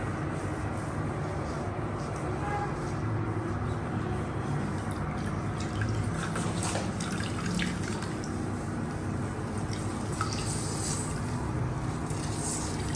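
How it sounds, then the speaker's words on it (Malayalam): Grapes wrapped in a cloth bundle are squeezed for homemade grape wine, and the juice drips and trickles steadily into a vessel under a dense, continuous wet hiss. "മുന്തിരി എല്ലാം കൂടെ നല്ല തുണിക്കകത്ത് എടുത്തിട്ട് ഇതിനൊരു കിഴി പോലാക്കിയിട്ട് പിഴിഞ്ഞ് ഇതിനകത്തോട്ട്"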